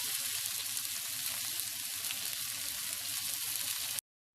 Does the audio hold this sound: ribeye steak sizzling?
yes